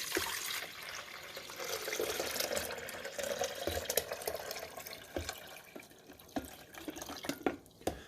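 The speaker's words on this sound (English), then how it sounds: "we're going to pour this water and vinegar mixture back here in the back" A water and vinegar mixture poured into the rear reservoir of a Black + Decker 12-cup programmable coffee maker, a steady close splashing pour that thins into irregular drips near the end.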